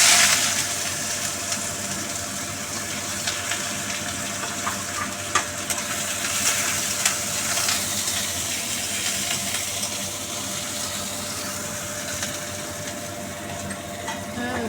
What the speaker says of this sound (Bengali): এই তেলে আমি দিয়ে দিচ্ছি, পেঁয়াজটা দিয়ে দিচ্ছি।